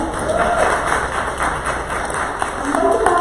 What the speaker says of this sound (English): Everybody give Coke a round of applause.